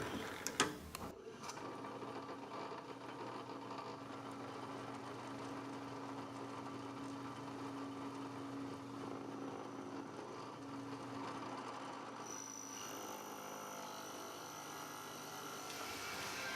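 A drill press runs with a steady, quiet motor whine and hum after a brief clunk at the start, its tone shifting near the end, while drilling into a guitar body.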